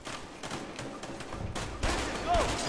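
Gunfire crackles in A Way Out, a co-op prison-escape video game, with several sharp shots and bursts scattered over a busy background of game ambience and music, growing louder toward the end.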